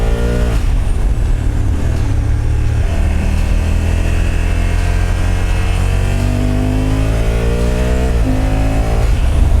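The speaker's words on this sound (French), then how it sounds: "On entend le moteur plus vrombir." A Honda Africa Twin Adventure Sport motorcycle engine revving hard in sport mode, loud and close, with rising and falling pitch as the revs climb repeatedly through the clip.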